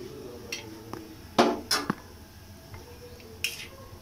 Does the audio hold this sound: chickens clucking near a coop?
no